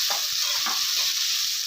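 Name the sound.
spice mixture sautéing in oil for chicken roast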